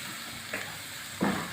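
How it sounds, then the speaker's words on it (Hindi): Tomatoes and spices being fried in a pan for a bitter gourd and onion dish, a steady close sizzle with two short scraping stir strokes rising above it, no voices. "मसालों के साथ टमाटर को हमने अच्छी तरह से भूनना है"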